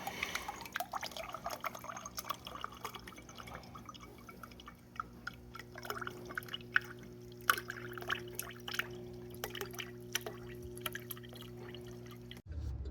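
Water trickling and dripping from a GE refrigerator's door dispenser after a water valve replacement, a thin steady flow with small drips over a low appliance hum, close by, stopping abruptly near the end.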